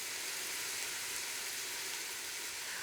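Minced veal sizzling steadily in a hot pan for a bolognese, a constant dense frying hiss close up with no talk.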